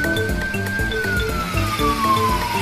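A cartoon ambulance siren wails in one long, slowly falling tone, loud and steady over a bouncy rhythmic music backing.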